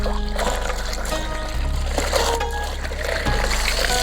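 Water pours into a container, a steady trickling and splashing stream running the whole time amid low background hum and clatter, with no speech.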